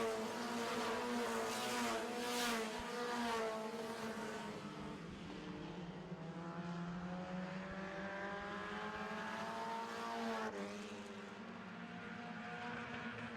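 Four-cylinder stock cars race around a track in an October 2016 heat, a steady, loud engine drone with shifting pitch as several cars run together, continuous throughout with no talk.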